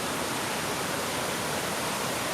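Waterfall and stream at Ka-ang waterfall rush in a dense, constant broadband roar that fills the whole short stretch without pause.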